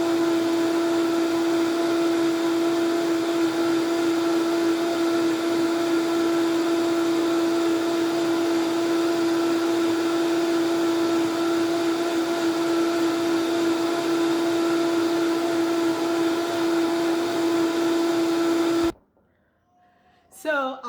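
An electric blender purees fruit for stage-one baby food, whirring loud and steady with a constant pitched drone for about nineteen seconds before cutting off abruptly.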